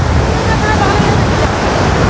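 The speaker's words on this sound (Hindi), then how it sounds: "अभी भी पानी दोस्तों लगभग 7-8 गेट खुले हुए हैं, तो आप देख सकते हैं पानी का बहाव कम नहीं है" Floodwater rushes through seven or eight open dam gates on the Sindh river after flooding at Madikheda dam, a loud, dense, continuous roar with no letup.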